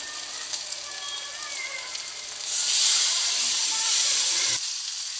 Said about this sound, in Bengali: এবার আমি এর মধ্যে দিয়ে দেব অল্প একটু জল